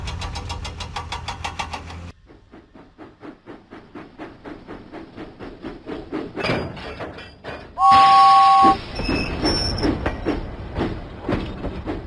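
Steam train puffing in a Thomas and Friends wooden train video game, with rhythmic chuffs that quicken as the engine builds speed, followed by a whistle blast and continued chugging.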